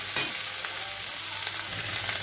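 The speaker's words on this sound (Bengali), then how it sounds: "পেঁয়াজটা ভাজা হয়ে এসছে, তার মধ্যে আমি একটু আদা দিয়ে দিলাম, আদা বাটা" Chopped onion and ginger paste fry in a pan for egg tarka, giving a steady, close-up sizzle with faint crackles throughout.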